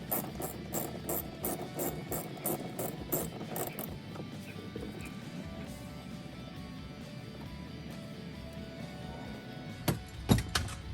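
Ratchet clicking rapidly while removing bolts from an Infiniti G37 door panel, close and rhythmic at first, then softer turning and a few sharp clacks near the end.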